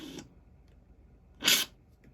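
ImageWriter II dot-matrix printer doing medium and short page feeds: two brief, separate mechanical bursts, the second louder and sharper, close up with quiet between them.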